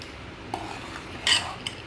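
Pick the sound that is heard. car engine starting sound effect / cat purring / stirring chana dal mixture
stirring chana dal mixture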